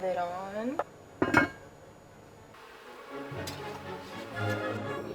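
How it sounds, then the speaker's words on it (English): A lid is set onto a Dutch oven with a short metallic clink and rattle, heard close after a voice and followed by faint kitchen noise and more talk. "And then I'm gonna put the lid on."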